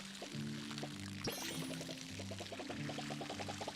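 Crops being watered in the video game Palia, a repeated trickling pour effect with short bubbly tones recurring steadily, fairly close and clear, with game music tones beneath.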